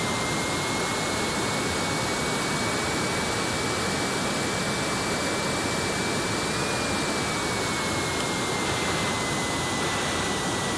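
A Southwest Airlines Boeing 737-200 taxis at San Francisco International Airport after landing, its jet engines giving a loud, steady roar that stays close and constant, with no voices.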